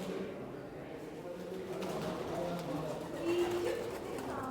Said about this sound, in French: Les pigeons.